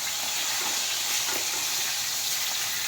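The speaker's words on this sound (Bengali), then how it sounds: "শুকনো লঙ্কাটাও গরম হয়ে যাবে থাক হতে থাকুক" Dried red chillies fry in a hot pan, giving a steady, close, bright hiss of sizzling oil that holds unbroken throughout, with no talk.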